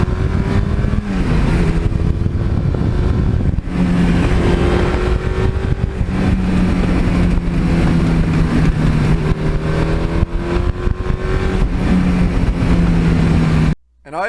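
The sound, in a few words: 1982 Suzuki GS1100E motorcycle engine doing a burnout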